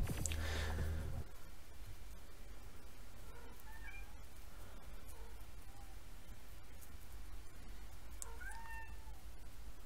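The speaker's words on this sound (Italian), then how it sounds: "Zitto, gatto." A cat meows a few times during a cutscene in the video game TimeSplitters 2, its short plaintive calls fairly faint against a steady hiss of background noise.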